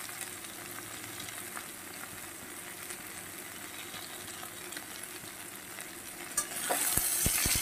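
Pumpkin greens sauté in a pan with salt and turmeric, a steady close sizzle throughout, with a few sharper stirring clatters and a louder surge of frying near the end.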